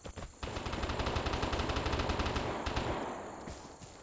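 Rapid automatic gunfire in the video game Vigor, aimed at rocks, rattles in a long, dense, even burst that fades toward the end, with a few separate shots after it.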